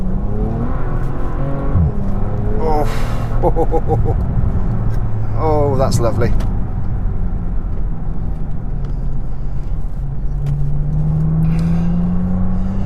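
A Bentley Continental GT engine hums and revs steadily in sport mode, with rising whines and a gear-change burst, while a person talks over it.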